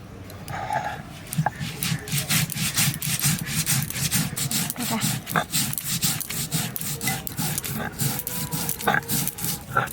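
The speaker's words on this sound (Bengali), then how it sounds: "আলু কষাতে কষাতে পোস্তটা বেটে নিচ্ছি" Poppy seeds ground by hand on a grinding stone make a continuous rhythmic rasping scrape, stone rubbing on stone in quick back-and-forth strokes, close and steady.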